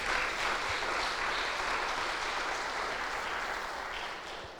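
Members of a Portuguese-speaking church congregation applaud during a Bible study service, a soft, steady wash of many clapping hands that thins slightly toward the end, with no talking.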